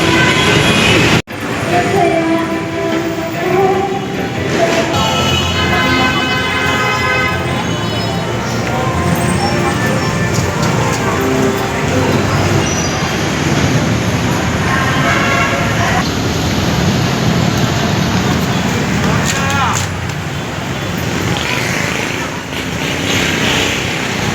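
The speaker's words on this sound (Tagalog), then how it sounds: "Bababa ko pa lang ng LRT." An LRT light rail train rumbles steadily nearby for the whole stretch, a continuous rail drone with faint voices mixed underneath.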